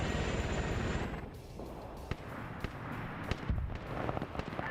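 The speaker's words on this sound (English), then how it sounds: "Oh, the autocans are shooting at the helicopter." Autocannons firing at a helicopter in a military video game: a dense engine rumble fades, then sharp separate bursts crack out at uneven intervals, fairly loud with no talk.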